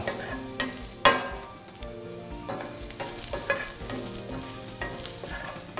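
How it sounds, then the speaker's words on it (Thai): Mushrooms stir-fry over high heat in a pan for a vegetarian basil stir-fry, a steady sizzle broken by repeated scraping and tossing strokes of a spatula, fairly close, with no voices. "ตอนแรกเนี่ยผัดด้วยไฟแรงก่อน"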